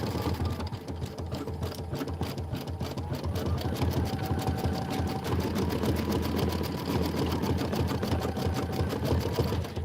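A Kimberbell embroidery machine stitches out a winter penguin, pine tree and deer design, its needle clattering in a steady fast rhythm that runs close and loud throughout.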